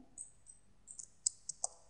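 A computer mouse clicks during 3D modelling of an iPhone: a few faint, crisp clicks spaced irregularly in a quiet room.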